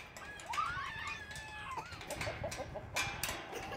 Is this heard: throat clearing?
no